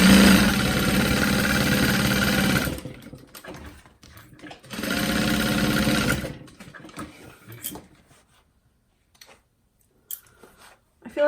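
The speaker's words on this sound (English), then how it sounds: "I'm going to baste it along the bottom and side" A sewing machine bastes along the bottom and side seams of a fabric tote bag, heard as two loud, close, steady whirring runs of a few seconds each, separated by a pause, followed by quieter handling clicks and rustles.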